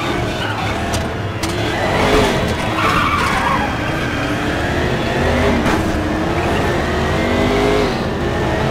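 Race car skidding while drifting in the GRID racing video game, a loud sustained screech of sliding tires over a revving engine, continuous for several seconds with no clear talk.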